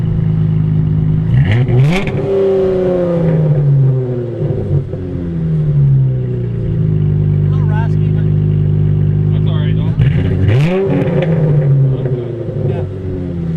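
A Chrysler 300 V6 revs hard through a deep, burbling Flowmaster Super 10 exhaust with a crossplate, rising and falling in pitch twice while people talk over it.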